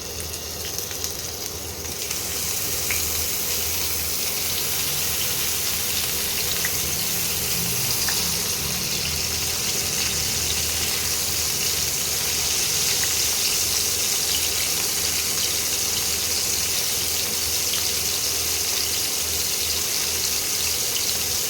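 Steady hissing sizzle of prawns frying in hot mustard oil, loud and continuous throughout with no talking.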